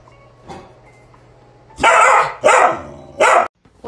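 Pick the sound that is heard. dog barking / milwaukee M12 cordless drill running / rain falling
dog barking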